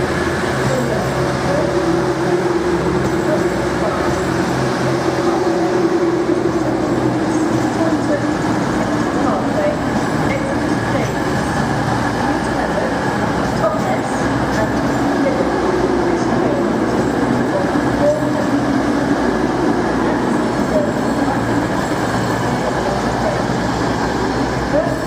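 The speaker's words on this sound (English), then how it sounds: "The next train to arrive at platform 3 will be the 11:28 cross country." A CrossCountry train approaches platform 3 at a station on the Oakham, Derby and Crewe line. A continuous loud rail rumble and hum fill the scene, with a voice speaking faintly over the noise.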